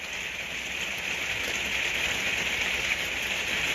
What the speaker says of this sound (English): Concentrating, listening to the rain.